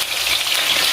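Potatoes fry in a pan with a brief, close, continuous sizzling hiss and no voices.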